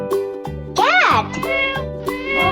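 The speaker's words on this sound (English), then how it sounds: "Cat." A cat meows once in a rising and falling cry within a children's Old MacDonald farm song, set among sung notes and music.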